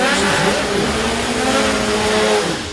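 Air-cooled VW Beetle engines rev hard at the Mason Dixon Dragway drag strip, a loud, continuous mid-pitched roar with rising tone, fading slightly at the end.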